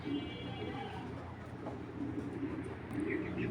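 A racing pigeon coos softly and steadily in a coop, a low murmuring call with a faint background hum and occasional muffled talk nearby.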